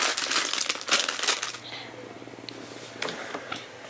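Plastic packaging of a Lego Education Simple Machines set torn and crinkled open, close, loud crackling and rustling that fades into quieter scattered crinkles, with talking mixed in.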